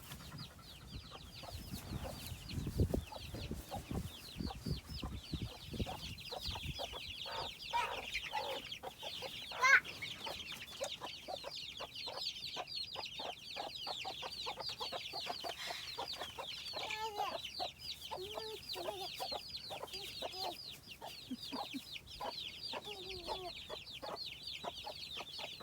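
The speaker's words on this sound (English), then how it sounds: "Go see your chickens." Chickens cluck and chatter continuously at close range, overlapping calls with occasional sharper squawks, steady throughout with no talking.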